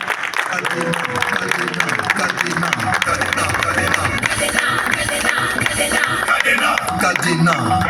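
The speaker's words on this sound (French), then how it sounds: "j'aimerais qu'on l'accueille avec un tonnerre d'applaudissements comme ça se doit, mesdames et messieurs" A festival crowd in Niamey, Niger claps and cheers to welcome a singer on stage, a dense, loud, sustained wash of applause with voices mixed in throughout.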